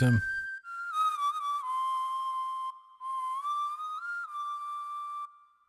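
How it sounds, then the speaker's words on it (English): A steady, sustained synthetic whistle tone from a Yamaha Genos 2 keyboard voice, with slight pitch bends and a brief gap, clear and alone, fading out at the end. "if we go into the next page, we've got a real whistle"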